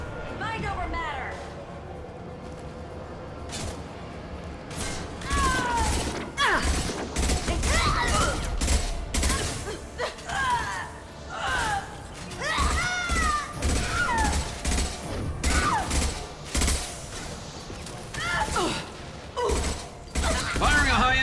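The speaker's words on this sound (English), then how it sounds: "Firing a high-impact shot!" High-impact gunshots in Mass Effect 2 crack repeatedly amid combat clatter, scattered bursts spread across the stretch, with voices talking over much of the action.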